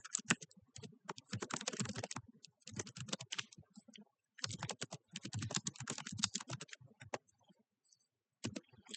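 Rapid keystrokes on a computer keyboard while writing MySQL code, coming in dense bursts with brief pauses between them, close and fairly quiet with no talking.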